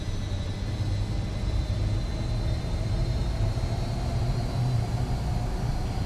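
Jet engines of an L-1011 airliner spool up in a flight simulator, a steady broadband roar with a faint high whine, continuous and even for the whole stretch without talk.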